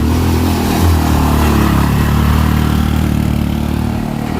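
A motorcycle engine labouring up a steep uphill road near Surkhet, Nepal, a loud, close, steady drone with slight revving, continuous and without talk.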